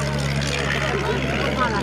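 A postwar propeller airplane at a 1990 air show in Brecé, France, drones steadily overhead while climbing, a continuous engine hum with a voice talking over it.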